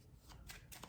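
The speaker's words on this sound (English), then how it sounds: "give them a couple more shuffles" A deck of playing cards is shuffled, two quick riffling bursts of fluttering card edges, close but faint.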